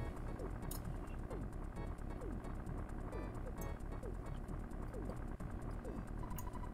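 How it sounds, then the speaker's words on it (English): A helicopter's engine and rotor drone constantly and steadily at low volume in the EarthBound series video game, with faint game sounds layered on top. "How does Porky know how to fly a helicopter anyways?"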